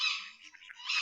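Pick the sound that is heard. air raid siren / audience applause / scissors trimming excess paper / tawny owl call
tawny owl call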